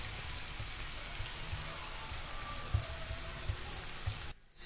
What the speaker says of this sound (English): I'm gonna let this saute for about 5 minutes.